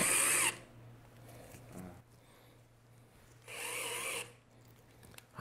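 A small Skil cordless screwdriver drives a screw in two short whining bursts, close and clear, separated by a quiet pause with faint handling.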